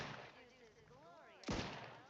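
Gunfire from the Outer Worlds 2 video game, a burst of shots cutting in sharply midway over a low game soundscape with faint tonal sweeps, fairly quiet overall.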